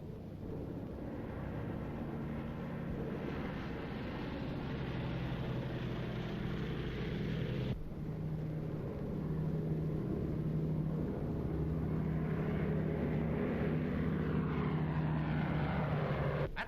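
Aircraft motors run up steadily before takeoff on a 1930 airliner, a continuous loud drone with a strong low hum that holds from start to finish, lifting slightly in the second half, with no talking.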